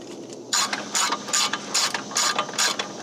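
A ratchet tightens bolts on the step bars of a Ford Super Duty Tremor truck, a quick series of close, crisp clicking bursts in a steady rhythm, alone with no talking.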